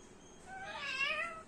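A cat gives a single drawn-out, rising meow lasting about a second, fairly close and alone with no talking.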